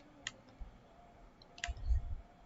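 Two crisp, faint computer mouse clicks, well apart, against quiet background hiss, followed by a low rumbling thump.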